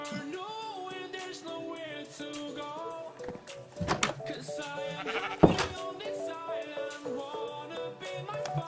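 Several bleats from a sheep in the Minecraft video game, wavering tonal calls repeating irregularly at moderate loudness over quiet background game sounds, with a couple of sharp clicks midway.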